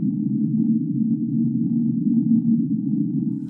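Low underwater whistle recorded deep beneath the sea and sped up sixteen times, now a steady, wind-like droning hum that holds unbroken at even loudness for the whole stretch.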